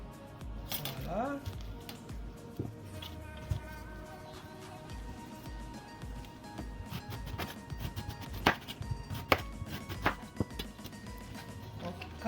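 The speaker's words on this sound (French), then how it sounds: "C'est toujours plus dur de couper ce genre de truc." A knife chopping vegetables such as carrots for Haitian pikliz on a cutting board, giving irregular close knocks and sharp taps that grow more frequent toward the end, with someone speaking French intermittently.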